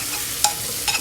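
Food fries in a pan as a spoon stirs it, giving a soft, steady sizzle broken by two quick scraping stirs close by.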